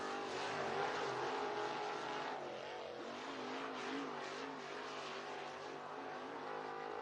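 Race cars at Southern Raceway roar around the track, a continuous engine drone with rising and falling revs as cars accelerate and pass, steady and moderately distant with no talk.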